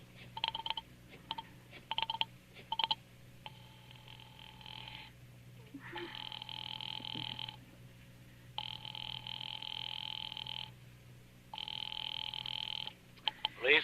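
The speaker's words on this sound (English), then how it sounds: "Ringing the police department." An old-style telephone rings in repeated long bursts in a radio drama, with a few short clicks and tones before, fairly faint with quiet gaps between rings.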